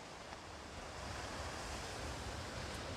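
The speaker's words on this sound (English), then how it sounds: "It's hard to get away from the ocean here. I'm just enjoying the sound." Steady ocean surf washing in on the Azores in December, a broad continuous roar with some wind noise, no voices.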